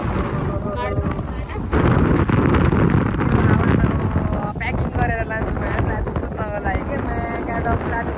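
Strong wind gusts across Barju Tal lake near Biratnagar, roaring and buffeting the microphone in a steady, loud rush, with voices faintly mixed into it.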